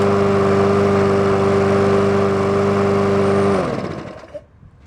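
A Briggs & Stratton push mower engine, just repaired at the flywheel brake, runs steady and loud with a strong harmonic drone, then shuts off and sputters down to silence near the end.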